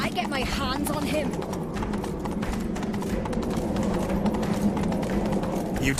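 A horse galloping in The Witcher 3, a rapid steady clip-clop of hooves heard close and loud throughout, with voices talking over the hoofbeats.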